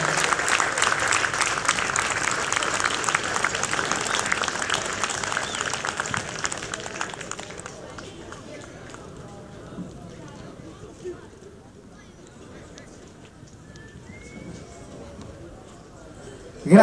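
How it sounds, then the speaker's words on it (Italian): Audience applause at a pre-match charity event for earthquake relief before the Pomezia–Unipomezia game, a dense burst of clapping for several seconds that fades to quieter crowd murmur and scattered talk. "facciamo un altro bellissimo applauso."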